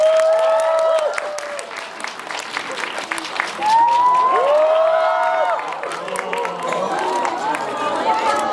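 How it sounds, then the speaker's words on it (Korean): An audience at a film screening Q&A with the director and actors applauds steadily, a loud dense clatter of clapping with scattered cheers and a voice speaking over it. "큰 박수로 맞이하겠습니다."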